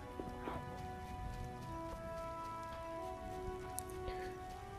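Steady rain patters down with scattered drops in The Witcher video game, layered over soft ambient tones and a low continuous hum.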